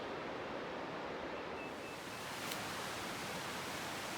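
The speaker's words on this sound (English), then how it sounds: "So this is the Nolahatchee, I think it's Nolichucky River." The Nolichucky River near Erwin, Tennessee, flows with a steady, dense broadband rush that stays close and even throughout, without pauses or distinct splashes.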